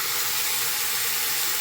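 Okra sautéing in a pan with ground coriander, cumin, turmeric and ginger paste gives a dense, steady sizzling hiss, close and unbroken for a moment with no talk.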